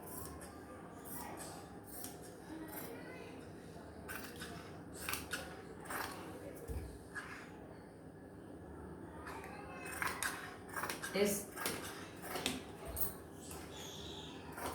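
Scissors cut through salwar fabric in a run of short, crisp snips with uneven gaps between them. The snipping is faint and close against a quiet room, with a few light clinks of handling.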